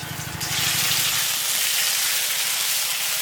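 Water poured into ground spice paste frying in oil in a wok, a sudden loud sizzling hiss that swells and holds steady, close by and with no talk.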